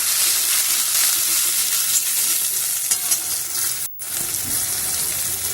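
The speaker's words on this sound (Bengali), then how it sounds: "পেঁয়াজটা ভালো করে আমি একটু লাল লাল করে ভেজে নেব।" Chopped onion and tomato frying in oil in a pan for chana masala, a loud steady sizzle with stirring scrapes and a brief break near the end.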